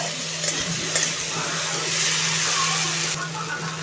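Tomatoes, green chilli and coriander leaves frying with garlic in a pan for street-style pav bhaji, a steady close sizzle with light stirring scrapes and a faint low hum underneath.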